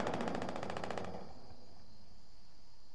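In the Fortnite video game, a rapid burst of automatic gunfire rattles for about a second, then cuts to a quiet background hum.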